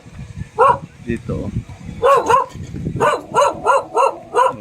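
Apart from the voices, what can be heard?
dog barking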